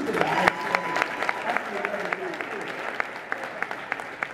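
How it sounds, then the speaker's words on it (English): Brief audience applause at a business seminar, moderate clapping with distinct sharp individual claps standing out, under a lingering voice and room sound. "Give him a round of applause real quick"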